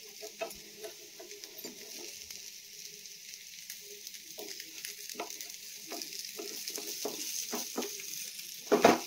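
Bottle gourd masala frying in a pan on a gas flame at medium heat, a soft, steady sizzle with scattered clicks and pops from pieces being turned. No one talks.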